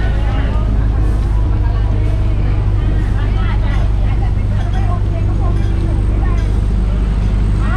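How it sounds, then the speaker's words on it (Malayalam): A loaded boat pulls away on a river at Ayutthaya, its engine a loud steady low drone beneath continuous nearby chatter and people talking. "കുറച്ച് ആൾക്കാർ കയറി ബോട്ട് പോവുകയാണ്."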